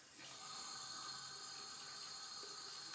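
Tap water running steadily into a sink while face cleanser is rinsed off, a soft continuous rush that starts after a moment and stays even and fairly faint, with no talking.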